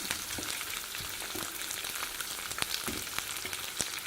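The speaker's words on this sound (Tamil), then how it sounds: "கருவேப்பிலை போட்டு நல்லா வதக்கிக்கலாங்க" Green chillies and curry leaves sauté in a pan, giving a steady broadband sizzle with occasional sharp pops and crackles, fairly close and with no talking.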